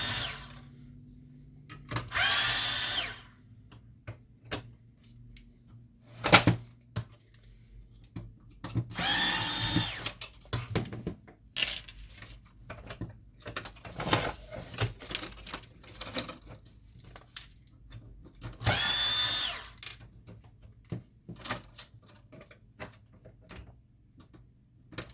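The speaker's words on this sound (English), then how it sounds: "Going to remove the screws that hold the formatter board." A power screwdriver removes screws from the formatter board inside an HP Officejet 5740 printer in several short, quiet whirring bursts spread apart, with faint handling clicks and knocks between them.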